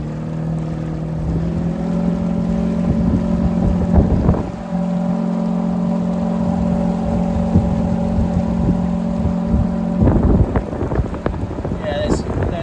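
A fairly large boat pushed along by a TEMO 1000 electric outboard motor with a foil-shaped leg. A steady motor hum runs under wind buffeting against the microphone, with brief knocks and bursts of noise.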